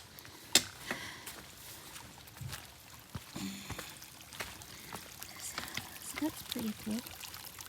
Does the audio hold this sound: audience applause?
no